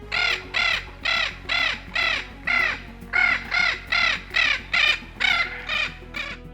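A Spix's macaw gives a series of loud, harsh squawking calls repeated in a steady rhythm, about a dozen in a row, close and clear with no talk.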